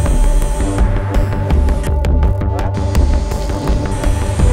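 A tattoo machine running at about 7,800 to 8,000 beats per minute with a nine-needle setup gives a loud, continuous buzzing hum with a throbbing pulse, close up and steady, without voices.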